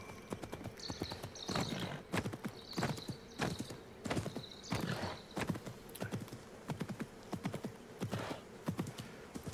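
Hooves clip-clop in a steady galloping rhythm with a few whinnies from a horse in Assassin's Creed Mirage, the sound fairly close and with no talk over it.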